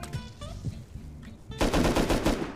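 Gunfire in the survival game Rust, a sudden loud burst of rapid automatic shots that breaks in after quieter background movement and continues densely to the end.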